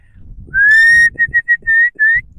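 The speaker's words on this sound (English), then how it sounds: "There's Mum whistling." A person whistles a clear, loud tune: one long sustained note followed by a quick run of short, bright notes, alone over faint outdoor rumble.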